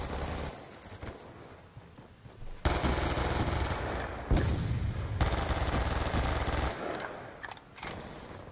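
M27 assault rifle fire in Call of Duty rattles out in dense, loud automatic bursts, broken by brief lulls and renewed volleys.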